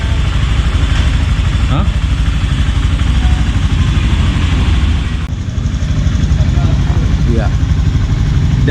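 A fuel-injected Honda Beat FI scooter engine runs loud and close at a steady pace after injector nozzle repair, holding an even drone throughout while people briefly talk over it.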